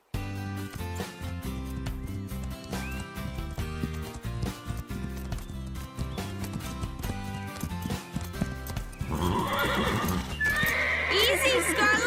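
Restless cartoon horses whinny and stamp with clip-clopping hooves over a music bed, and a voice speaks partway through; the neighs turn sharper and louder near the end.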